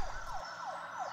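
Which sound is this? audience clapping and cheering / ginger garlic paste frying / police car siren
police car siren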